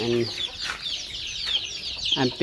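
Farm chickens, some suffering from swollen eyes, cluck close by in short bursts, with a few louder squawks near the start and end over faint background noise.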